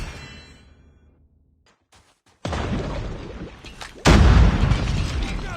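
Grenade explosion in a multiplayer hardpoint match of a first-person shooter video game, erupting as a loud, close boom around the four-second mark after earlier bursts of gunfire and in-game voice callouts.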